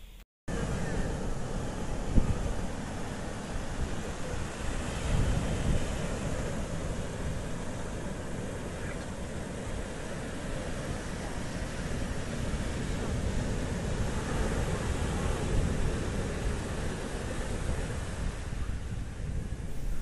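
Waves wash in at Eden Beach in Pondicherry, a steady, rolling roar of surf mixed with wind buffeting the microphone, continuous and fairly loud.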